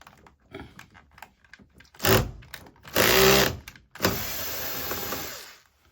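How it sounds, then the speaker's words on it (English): Screws being removed from a Sam4s SPS-300 or ER-900 cash register top cabinet with a power driver, giving three loud whirring bursts of a few seconds each between quiet handling clicks. "Take out that screw."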